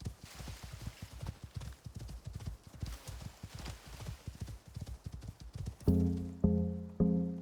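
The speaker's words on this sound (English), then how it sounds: "We got us a horse." Horse hooves clip-clopping at a quick galloping rhythm in the Icarus survival game, close and steady, ending in a few loud, ringing mechanical tones.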